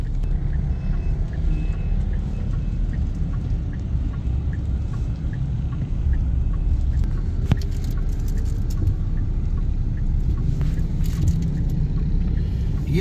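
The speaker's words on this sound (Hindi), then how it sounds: "बहुत ट्रैफिक है कराची में।" Heavy city traffic in Karachi heard from inside a moving car, a constant low engine and road rumble with faint beeping and scattered horn-like tones in the distance.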